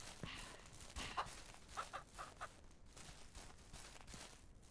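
Chickens clucking in short repeated bursts amid faint shuffling, quiet and close, with no talking, in the video game Ranch Simulator.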